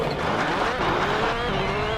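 Colin McRae's Ford Focus rally car in the World Rally Championship PS2 game, on a gravel bonus stage of the Acropolis Rally in Greece, with a steady engine drone and tyre noise running throughout at an even loudness, no voices.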